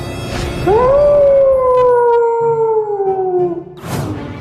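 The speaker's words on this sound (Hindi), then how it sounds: "अरे ये भेड़िया कहाँ से आ गया?" A wolf gives a single long, loud, close howl that rises at the start and then holds a steady, slowly falling tone for about three seconds before fading, with no talk over it.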